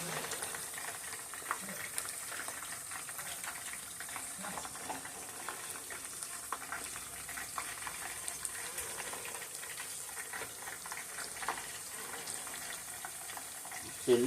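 Batter-coated fish and shrimp fry in hot oil for a New Orleans style fish fry, a steady crackling sizzle with scattered pops throughout, close and continuous with no talk.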